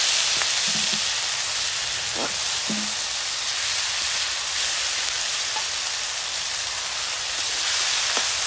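Water hyacinth stalks fry in plenty of oil, a steady, dense hiss that runs the whole time with a few faint knocks and pops, and no one speaks.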